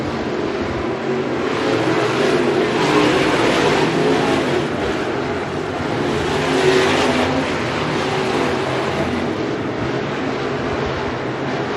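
Race cars thunder down the back straightaway at Bakersfield Speedway, running side by side, as a loud, steady engine roar fills the whole stretch with slight swells as they pass.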